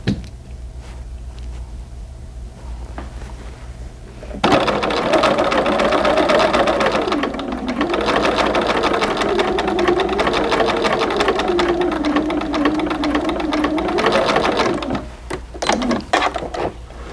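A sewing machine runs a basting stitch along the quarter-inch fold line of a doll's pants hem, starting after a few seconds of quiet and whirring steadily and close for about ten seconds before stopping with a few small clicks.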